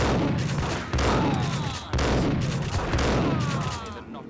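Sustained gunfire in the Max Payne video game, dense overlapping shots in bursts that restart roughly every second, loud and close and filling the whole stretch.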